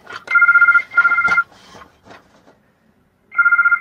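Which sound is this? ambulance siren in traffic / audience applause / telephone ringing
telephone ringing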